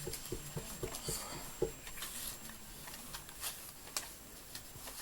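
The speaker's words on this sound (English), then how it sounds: "I've just got to shuffle the deck." A deck of playing cards is shuffled by hand for the Threes and Fours card game, producing soft riffling and pattering bursts with light taps, quiet and close, after a brief murmur of voice.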